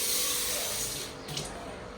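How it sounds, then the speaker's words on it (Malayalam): Water is poured, a continuous splashy rush close by, easing slightly partway through. "കുറച്ച് വെള്ളം ഒഴിക്കാം, സ്വല്പം വെള്ളമാവാം"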